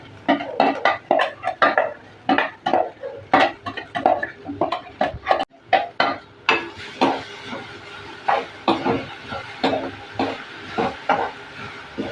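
Ground masala for chicken thoran stirred in a pot after mustard seeds, giving a quick run of loud, close scraping and knocking strokes of a spoon against metal that continues steadily throughout.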